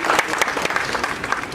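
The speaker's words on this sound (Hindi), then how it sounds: "जोरदार तालियों की गूंज।" A large audience at a big event in Bombay breaks into loud, dense applause. The many hands form a continuous, close clatter that holds steady through the short burst, with faint crowd murmur beneath.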